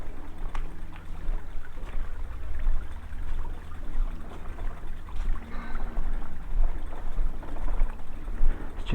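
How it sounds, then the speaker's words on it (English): Water splashes and trickles steadily over stones on Monarch's Walk in the Cotswolds, a constant, textured rush, close by, with no voices over it. "Just nice hearing the water trickling on all the stones."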